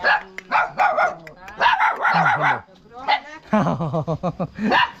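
A dog in a rural village near the Laos–Vietnam border barks in loud, close bursts, some quick and clipped, some drawn into yelping runs, with people talking nearby.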